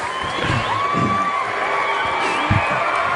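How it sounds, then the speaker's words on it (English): Studio audience on a radio show clapping and cheering to urge a performer on, a steady crowd roar with whoops and shouts throughout, fairly loud and close. "They're clapping because they're trying to encourage him to finish."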